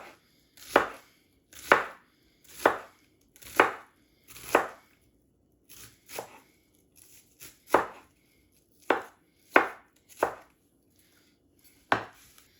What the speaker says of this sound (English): I like to just chop it into these like strips